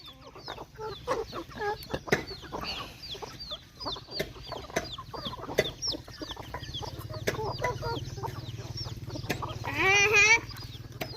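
Several chickens cluck and chatter continuously close by, with a denser burst of squawking near the end over a low steady background hum.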